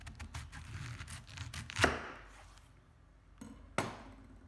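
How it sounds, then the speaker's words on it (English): A knife cuts through a purple cabbage, with two distinct crunchy chops a couple of seconds apart over faint background rustling, close and fairly crisp. "Cut this purple cabbage in half."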